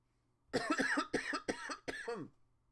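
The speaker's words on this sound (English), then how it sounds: "I'm sorry about the coughing." A person coughs four or five times in quick succession, harsh and close, with short gaps between the hacks.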